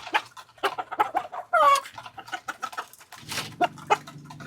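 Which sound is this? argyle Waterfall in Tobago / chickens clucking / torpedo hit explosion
chickens clucking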